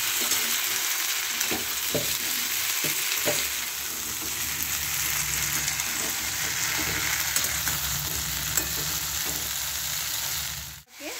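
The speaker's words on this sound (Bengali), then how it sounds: "আমি কিন্তু গ্যাসটা কমিয়ে ভেজে নেবো কুলগুলোকে ভালো করে।" Jujube berries frying over low gas with dried red chilli in a pan for chutney, a close steady sizzle broken by soft stirring taps, ending with a brief knock, no talking.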